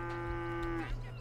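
A cow in GTA 5 lets out a single drawn-out low moo, fairly faint over a steady background drone, with no talk.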